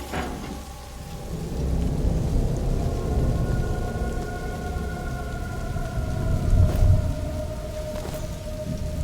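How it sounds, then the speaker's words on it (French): A thunderstorm in the video game A Plague Tale: Innocence, with steady rain and a low rumbling that swells and fades, plus a sustained tonal drone underneath. No voices. "T'inquiète pas, l'orage couvre nos voies."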